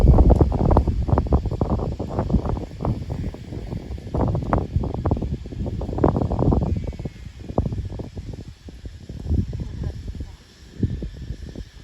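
Strong storm wind gusts roaring over a cassava field in very hot weather, loud and buffeting in irregular surges with heavy microphone rumble, while someone talks throughout.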